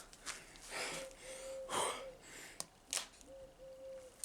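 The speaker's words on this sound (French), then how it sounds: "je vais essayer de reprendre ma respiration calmement" Heavy, effortful breathing after home exercise during lockdown, with several close breathy gasps and wheezy inhales and exhales in an uneven rhythm, no talking.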